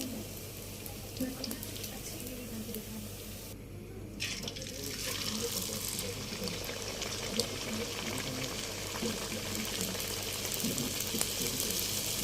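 Sooji luchi frying in hot oil, a steady bubbling sizzle that continues throughout with light clinks, with a voice speaking partway through.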